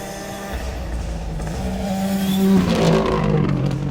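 A Ford Fiesta rally car on a gravel stage at the Scottish Rally, its engine note rising and swelling as it draws near, loud and alone with no voices.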